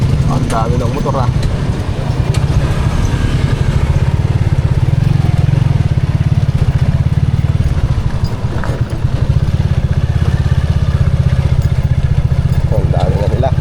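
Engines rumble steadily from many motorcycles idling and revving nearby on a street in Baliwag, Philippines, with bikes passing close by amid a busy street din.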